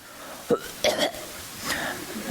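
A voice imitates a short, light cough, three brief throaty bursts spaced over a couple of seconds, close and fairly quiet.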